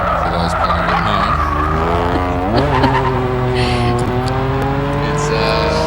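A Mitsubishi Verada races up a lakeside hillclimb course, its engine revving hard with rising and falling pitch through gear changes and tyre squeal, close and loud, while a commentator talks over it.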